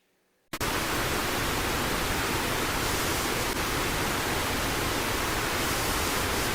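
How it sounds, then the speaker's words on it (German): Steady white noise like a running fan, switching on abruptly and holding a loud, even hiss with no variation. "Überraschend war ein Experiment mit weißem Rauschen."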